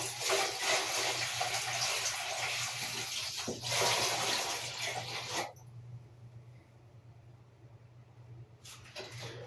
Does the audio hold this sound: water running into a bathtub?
yes